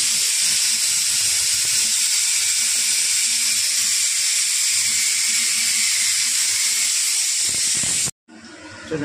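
Curry leaves sizzling in hot cooking oil, a loud steady hiss close by that runs unbroken for about eight seconds, then cuts off abruptly.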